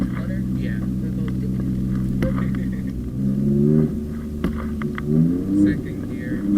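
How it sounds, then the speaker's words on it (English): A Ford Raptor pickup truck accelerating with turbo noises, a steady engine drone that rises in pitch through revs with fluttering turbo sounds, under a person talking. "And it makes all the good noises too, like all the turbo noises."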